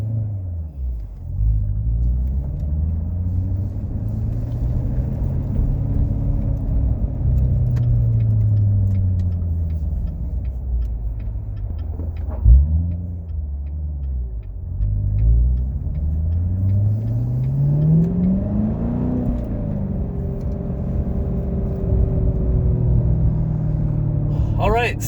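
A Chevrolet Corvette C7 Grand Sport cruises along a coastal road from Hampton Beach to Portsmouth, its engine rumble loud and close from inside the car, pitch climbing and dropping through gear changes.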